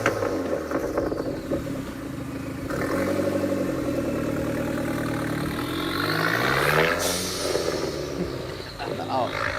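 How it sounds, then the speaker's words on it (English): A Dodge Neon SRT4 sport compact sedan with a throaty aftermarket-sounding exhaust rumbles and revs steadily, swelling louder midway with a sweeping pass-like rise, heard close and continuous throughout. "can we just listen to that throaty exhaust one more time for good measure?"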